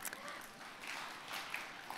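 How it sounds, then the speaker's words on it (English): Audience applause rises in a chapel gathering, a steady, distant wash of many hands clapping at low level with a few faint cheers poking through. "give yourselves a round of applause for that one"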